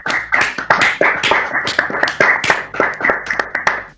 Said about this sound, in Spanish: me gustaría pedir un fuerte aplauso a Paul y a Lucas